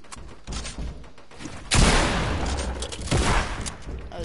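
Gunfire in a Fortnite match, a few faint shots early on, then a loud close burst of rapid gunfire with a booming low tail, and another volley near the end.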